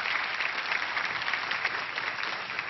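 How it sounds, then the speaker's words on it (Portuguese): Enthusiastic applause from young men in a television talk show studio audience, a dense steady clatter of many hands clapping continuously, close and full, with no talk over it. "Tem uns rapazes que aplaudiram entusiasticamente ali, né?"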